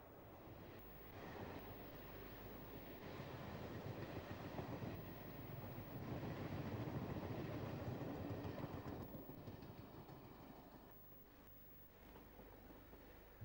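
A train passes on the singled line between Moreton and Dorchester in 1986, a broad roaring rumble that swells to a peak mid-way and then fades as it draws away, with wind buffeting the microphone.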